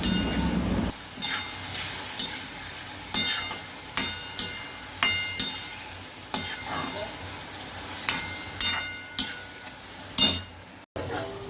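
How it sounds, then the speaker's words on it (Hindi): Ridge gourd bhaji with turmeric and salt is stirred in a pan, a steady sizzle under repeated scraping and clinking strokes of the spoon, about one every second, close up with no talk. "इसे अच्छे से मिक्स कर लेना है।"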